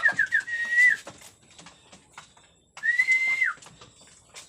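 Two bursts of shrill human whistling, made to call chickens on a hillside farm, the first a rapid run of short chirps leading into a held tone, the second a longer held note that drops at the end, with faint background sounds between.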